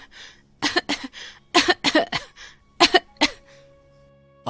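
A woman coughs badly in a series of harsh, loud bursts, about six separate coughs in an irregular rhythm with short gaps between them, close by and with no talk.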